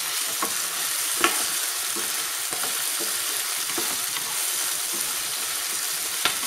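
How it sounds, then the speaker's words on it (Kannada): Curry leaves fry with chicken and capsicum in a hot pan, a steady close hiss of sizzling oil broken by occasional scraping strokes of a stirring spoon, no voices. "ಹಾಗೆ ಕರಿಬೇವಿನ ಸೊಪ್ಪು ಹಾಕ್ಕೊಂಬಿಡಿ"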